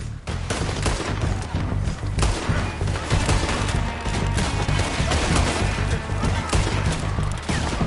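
Dense, loud gunfire in the Red Dead Redemption 2 video game, a continuous barrage of overlapping shots and rapid bursts with heavy thumps, sustained without a break.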